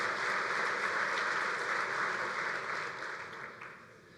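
Audience applause fills the hall at a bowling convention's annual meeting, a broad wash of clapping that holds steady and then fades out toward the end.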